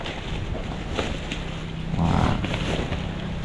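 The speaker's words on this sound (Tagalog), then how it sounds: "Malakas ang hangin" Strong wind buffeting outdoors, a steady rushing roar with gusts swelling louder midway, no voices.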